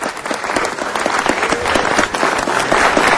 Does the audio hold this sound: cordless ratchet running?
no